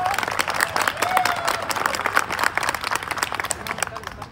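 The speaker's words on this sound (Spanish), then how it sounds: "¡Dele fuerte el aplauso!" Crowd applause and cheering at a Mexican bull-riding tournament, uneven clapping mixed with crowd noise and an announcer's voice over it.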